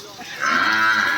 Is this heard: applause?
no